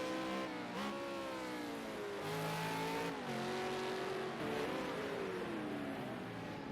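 A V8 Supercar brakes into the hairpin at Long Beach during a practice session, its engine note stepping down through a series of downshifts, loud and close, with no talk over it.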